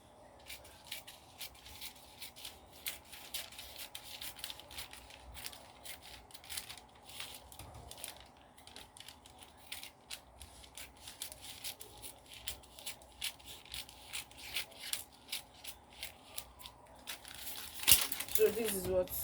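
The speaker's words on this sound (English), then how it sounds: "then you now cut it down to make your slant" Scissors snip and rustle through fabric while cutting a slanted edge for a gown, a steady run of soft close crisp cuts and crinkles that builds slightly louder toward the end, with faint speech.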